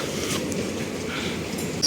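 Kanyakumari Express train pulling into a platform at Kottayam railway station, a steady rumbling rail noise with faint clatter and a brief high squeal near the end, no voices.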